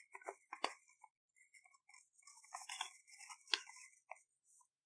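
Sheets of paper creased and folded by hand for an origami Christmas tree, giving soft crisp rustles and sharp flicking snaps in irregular bursts, close up with no talking.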